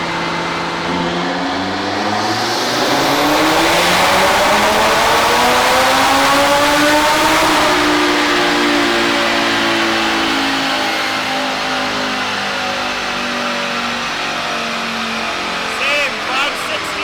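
An Audi RS3 with a Unitronic 4-inch turbo inlet revs hard on a dyno, a loud, sustained engine roar whose pitch climbs steadily then drops and holds, close and unbroken throughout.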